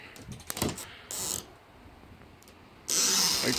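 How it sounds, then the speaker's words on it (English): Custom gull-wing DeLorean-style door on a fully enclosed Polaris RZR 900 UTV cab built from quarter-inch plexiglass being pulled open: a few short clicks and latch rattles, then bursts of broadband rubbing and creaking, close by, with no talking. "It's coming together with the DeLorean doors. Just pull them open"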